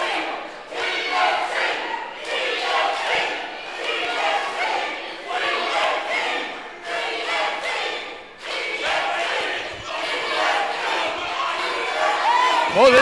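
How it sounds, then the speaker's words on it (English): A wild crowd at a Mid Atlantic wrestling event cheers and whoops in loud surging waves, with shouting voices and chatter mixed into the roar. "crowd is definitely wild tonight."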